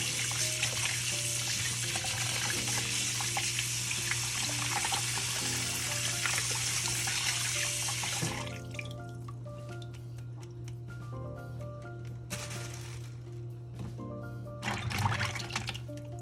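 Running tap water while raw seafood is rinsed for a seafood boil, a steady close splashing stream that thins into trickles and drips with light clinks, no talking.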